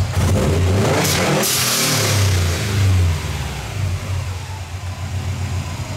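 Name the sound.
car engine hard revving, GFB blow-off valve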